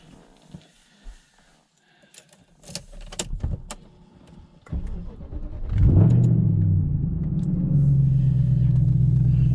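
An engine turns over and catches around the midpoint, then settles into a loud, steady idle with a rising rev, preceded by scattered clicks and door-like thumps.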